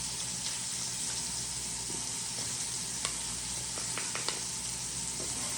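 Potatoes and garlic fry in a pan, giving a constant soft sizzle with occasional small pops and crackles, fairly quiet and steady with no talking.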